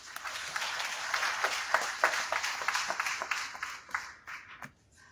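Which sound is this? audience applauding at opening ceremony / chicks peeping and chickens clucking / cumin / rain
audience applauding at opening ceremony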